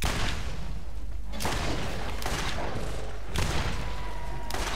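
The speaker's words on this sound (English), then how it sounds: "I'm getting like artillery bombarded by you" Heavy artillery bombardment and gunfire in the Borderlands shooter game, with dense, loud bursts of booming fire arriving in several waves with short breaks between them, and almost no voice.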